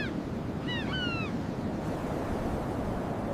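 Turbulent ocean waves pound Iceland's black coast in a steady, loud, rushing roar that never lets up, with a few brief seabird calls early on and no voices.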